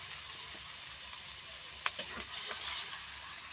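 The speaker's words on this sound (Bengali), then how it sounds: "তারপর আদা বাটা দিচ্ছি, জিরা বাটা দিয়ে দিচ্ছি, স্বাদ মতো লবণ দিয়ে দিচ্ছি" Ginger paste, cumin paste and salt go into a hot pan, where a steady sizzle holds throughout, with a few soft stirring knocks near the middle.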